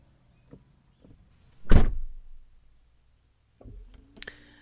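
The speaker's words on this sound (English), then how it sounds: "get down and go close the door so that I can finish" A door swings shut inside a family home with a single solid thunk, followed by a few faint clicks and a softer knock as the latch settles, the rest of the room quiet around it.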